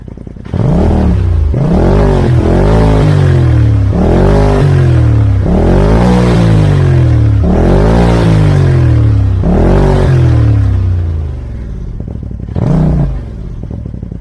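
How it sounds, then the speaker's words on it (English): A turbocharged Polaris RZR engine, fitted with a new muffler with fresh packing, revs loudly in a string of about six sharp throttle blips, each rising and falling, then one short final blip after a pause, with no talking. "I'll rev that up one more time, see if it changes."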